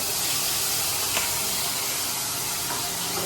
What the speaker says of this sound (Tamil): எல்லாத்தையும் இப்போ நம்ம லைட்டாக தாளிச்சுக்கலாம்.